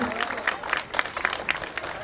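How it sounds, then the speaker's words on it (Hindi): Audience applause for a mother-daughter dance at a sangeet celebration, steady rhythmic clapping from a crowd, fairly close and moderately loud. "जोरदार तालियां इनके लिए बनती है"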